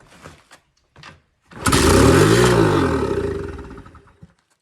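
An old pit bike engine firing on starting fluid after years of sitting, a single loud rising and falling roar of a couple of seconds that fades out, close up, with a few faint sounds before it and no talking.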